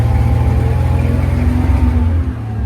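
A car engine runs loud and close as the driver shifts into second gear, holding a steady revving drone that drops slightly near the end.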